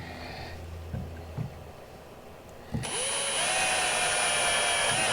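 A power drill bores holes into a kayak to mount a rod holder. After a few quiet knocks and clicks it spins up and runs steadily with a high whine for a couple of seconds.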